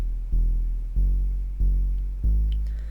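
Gritty sine-wave synth bass preset layered one octave apart, playing four evenly spaced, sustained low notes, each a loud attack that slowly decays, forming a short bass line with nothing else heard.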